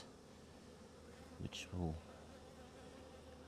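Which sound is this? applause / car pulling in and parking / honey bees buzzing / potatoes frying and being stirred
honey bees buzzing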